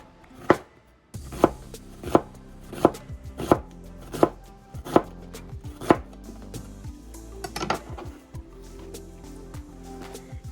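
An onion being chopped with a knife on a cutting board, about nine crisp evenly spaced chops, close up, followed by a faster flurry of lighter cuts and scraping, with no talking.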